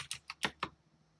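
A handful of quick, crisp keystrokes on a computer keyboard, about five close taps in an irregular burst within a second, quiet and with no talking.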